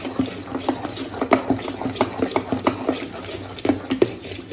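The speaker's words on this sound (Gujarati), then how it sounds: "લીંબુના ફૂલને પણ સારી રીતે મિક્સ કરી લઈશું." Citric acid is stirred into vatidal khaman batter with quick, rhythmic wet strokes and soft clicks against the bowl, heard close up with no talk.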